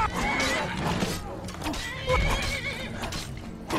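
A horse in the Skyrim video game neighs and whinnies loudly and close, upset after being struck, with a few hoof clops and a voice talking over parts of it.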